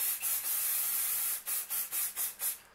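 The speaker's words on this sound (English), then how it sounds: "And I will spray it away from my desk." Fixative aerosol spray can sprayed in short bursts: one long hissing spray, then a series of five or six quick puffs, close and fairly loud with no talking.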